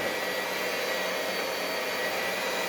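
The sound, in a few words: electric hand mixer mixing cheesecake batter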